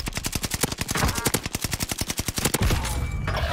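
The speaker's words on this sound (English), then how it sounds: "Hold on, somebody's shooting" A hip-bot class weapon in an online shooter fires a long, rapid automatic burst of close, loud gunshots in steady rhythm, ending in a brief crackle with faint background noise.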